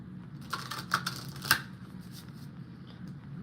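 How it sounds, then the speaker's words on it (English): Playing cards riffle briefly in a couple of quick, crisp bursts close by, followed by quiet. "One more shuffle."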